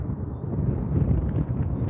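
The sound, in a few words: wind blowing on microphone at airport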